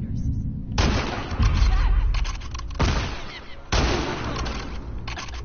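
Gunshots in The Last of Us Part II, with several loud, close blasts and rapid bursts that arrive in separate clusters with short gaps between them.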